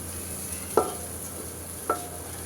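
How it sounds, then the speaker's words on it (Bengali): Semai vermicelli being stirred in a pan: two distinct spoon scrapes about a second apart over a faint, steady sizzle, close by and with no talking. "নেড়ে চেড়ে এখন তো রান্না করে নিচ্ছি।"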